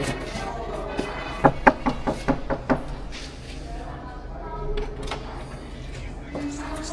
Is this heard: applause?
no